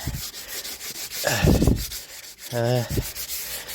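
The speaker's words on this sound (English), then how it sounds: "just going to give it a quick rub down, just to key the surface" Abrasive rubbing on a Jaguar X-Type sill panel to key the surface before degreasing, a few short scuffing strokes in bursts, fairly close and alone.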